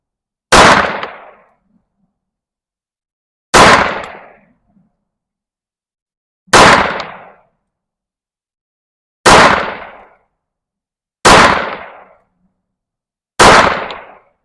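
Six loud, sharp pistol shots from a Staccato C2 firing Underwood jacketed hollow point +P ammunition, evenly spaced about three seconds apart, each a crisp crack with a short decaying tail into silence.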